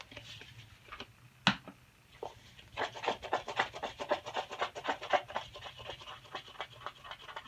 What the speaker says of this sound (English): Got some glue there. Get that rubbed off.